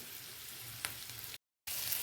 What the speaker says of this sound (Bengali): একটু ভাজার পর মাশরুমটা দিয়ে দিচ্ছি।